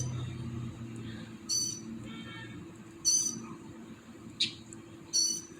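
A bird calling at 10pm at night, sharp high calls repeating every second or so over a steady low background hum.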